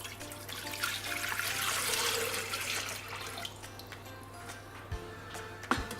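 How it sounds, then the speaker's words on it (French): Water being poured into a Thermomix TM5 bowl with sugar already in it for iced tea, a close, steady splashing gush that swells and then tapers off, followed by a few light knocks, with no talking. "Ajoutez l'eau."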